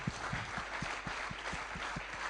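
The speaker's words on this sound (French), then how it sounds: "Vous pouvez vous applaudir," Sparse, faint audience clapping at a radio event in Tours, a few distinct claps spaced irregularly over two seconds against a soft hiss.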